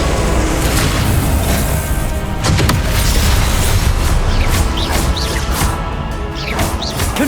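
Confringo spell explosions in the video game Hogwarts Legacy, with loud, roaring blasts and crashing impacts over a dense rumbling battle din, some sharp whooshing bursts, continuous and close.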